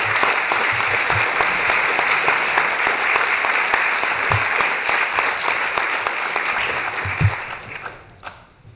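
Audience applause for Elio García and Linda Antonsson at a Celsius 2018 convention talk, a dense sustained clapping from a large crowd that holds steady for about seven seconds before tapering off.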